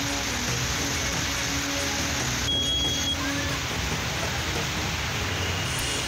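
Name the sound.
heavy rain falling on flooded city streets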